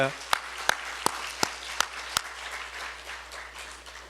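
Church congregation at a revival service clapping in unison, six sharp, evenly spaced claps over a low room hum, moderately loud and steady before fading into quiet.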